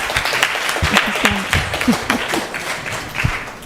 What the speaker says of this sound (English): big round of applause for her great Shama Mohini Devidasi.